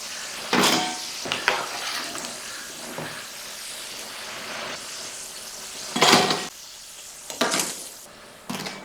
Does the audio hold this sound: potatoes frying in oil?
yes